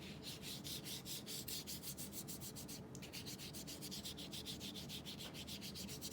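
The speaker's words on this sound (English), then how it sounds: "I'm soaking up my brush. And you sweep over anywhere you drew." A brush loaded with purple watercolor sweeps repeatedly across paper over crayon marks, giving a steady, close rhythm of soft scratchy strokes that continues without talk.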